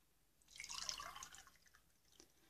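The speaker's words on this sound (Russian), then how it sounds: "Теперь заливаем воду." A quiet, brief splash and trickle of slightly warm water poured into flour in a bowl for bread dough, close by, lasting about a second before fading.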